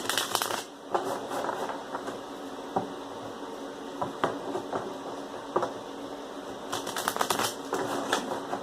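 A tarot deck is shuffled by hand at close range, giving repeated quick riffling and tapping card sounds in irregular bursts.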